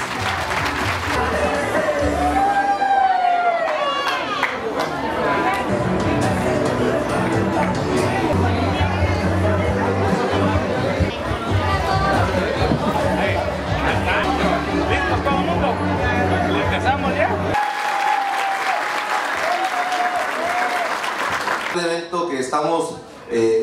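A crowd applauds at the inauguration of a university building, with clapping and murmuring voices mixed with speech over an amplified sound system, continuing for a long stretch.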